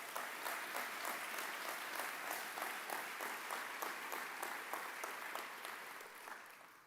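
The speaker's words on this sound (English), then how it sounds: "So can we give him one more round of applause?" An audience at a Right to Life banquet gives a round of applause, a fairly close, steady patter of many hands clapping with a loose rhythmic pulse that tapers off near the end.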